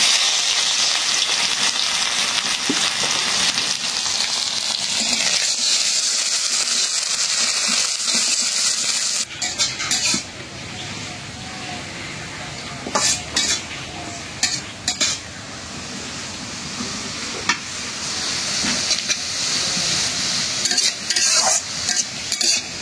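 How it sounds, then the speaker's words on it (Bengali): Chopped onions fry in a pan, a bright crackling sizzle that settles into a lower hiss midway, punctuated by repeated clinks and scrapes of a spatula against the metal. "পেঁয়াজটা একটু লাল করে ভেজে নিলাম"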